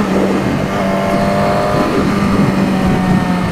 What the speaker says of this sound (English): I got some hesitation on the throttle, and I gotta really ride the clutch out